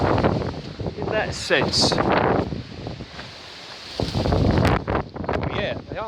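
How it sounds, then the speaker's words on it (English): High winds in Essex, England gust through garden trees and past the microphone, with heavy buffeting roars that swell and ease, and someone speaks briefly between the gusts. "Oh yeah, they are getting up the winds, aren't they?"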